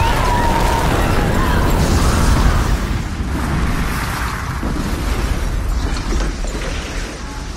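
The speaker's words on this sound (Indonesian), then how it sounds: "akibat ledakan tersebut" A loud explosion booms up front, then a rumbling, crackling aftermath slowly fades as debris settles.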